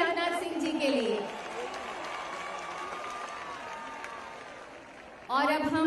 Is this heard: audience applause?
yes